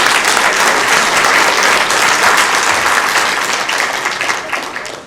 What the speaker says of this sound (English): One more big round of applause for our Sacramento firefighters.